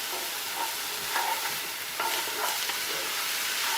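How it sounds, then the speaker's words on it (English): Vegetables for jambalaya sauté in a pan with a steady, loud sizzle and occasional stirring scrapes, heard up close with no voices over it. "we're going to saute those just to where they're almost caramelized"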